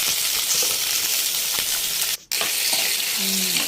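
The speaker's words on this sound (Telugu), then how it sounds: "ఆయిల్ పోసి గుమ్మడికాయ ముక్కల్ని ఇందులో వేసి వేపుదాం" Pumpkin pieces frying in oil in a pan, a loud, close, unbroken sizzle with a short dropout near the end and faint stirring underneath.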